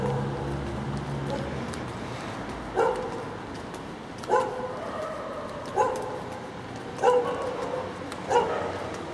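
Dogs barking in an empty city: five single barks spaced a couple of seconds apart, distant and echoing over a low outdoor hum.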